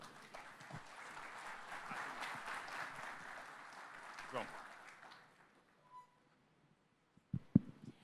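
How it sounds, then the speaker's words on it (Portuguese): Applause from a conference audience at an international congress, moderately distant and steady for about five seconds before fading out, followed by a few scattered knocks and microphone handling sounds. "Uma salva de palmas, por favor."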